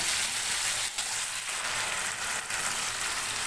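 Steady, loud sizzling of spiced masala frying in oil in a pan as fish pieces go in for a Bengali pakal fish curry, with a few brief dips in the continuous crackle.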